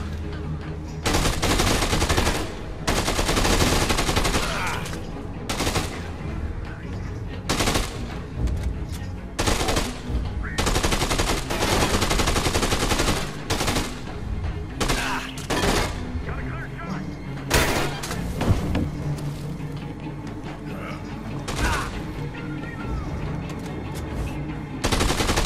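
Sustained gunfight in the zombie action game Dead Rising 2, with rapid machine-gun bursts and repeated loud gunshots crackling nearly nonstop over a busy game mix, and a voice talking intermittently beneath the fire.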